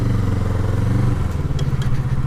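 A cold 2017 Kawasaki Z650 motorcycle engine runs loudly close by, with a steady low rumble and a slight change in pitch partway through as the throttle is touched.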